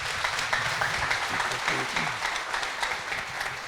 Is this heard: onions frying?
no